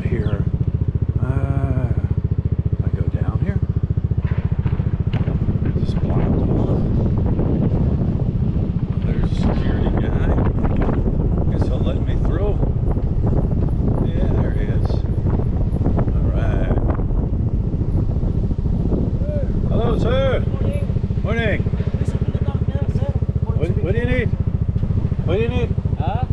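A motorcycle rides through a Hilton hotel parking lot in Clark, Philippines, its engine droning steadily and close throughout under heavy wind buffeting, with people talking over it.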